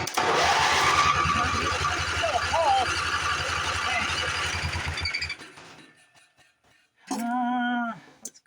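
A neglected 1980s Craftsman GT lawn tractor engine cranks and sputters loudly for about five seconds, then stops, and after a short quiet gap a brief strained whine follows.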